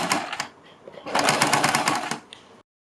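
A sewing machine stitches the neckline of a kurti in two close, loud bursts of rapid whirring. The longer second run ends abruptly.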